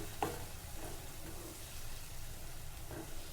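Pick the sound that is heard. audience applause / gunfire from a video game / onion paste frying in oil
onion paste frying in oil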